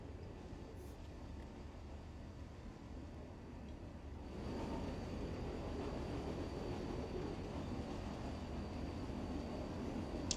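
A Class 37 diesel locomotive hauling a freight train between Penzance and Truro rumbles steadily at a distance, its low drone swelling louder partway through and holding to the end.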